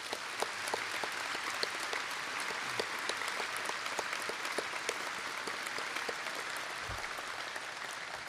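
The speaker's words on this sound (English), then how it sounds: "please join me in a round of applause for these Air Force organizations" Steady applause from an audience at an aviation ceremony honoring Air Force organizations, a continuous patter of many hands clapping at moderate distance without cheering.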